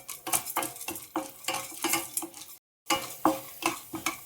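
Chana dal hits hot oil in a pan, crackling and popping in quick bursts as a spoon scrapes and stirs against the metal, loud and close, with one brief gap of silence.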